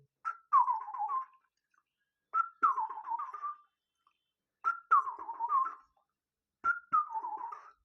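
A voice whistles an imitation of a bulbul's call four times, each a short rising note followed by a warbling descending trill, separated by pauses.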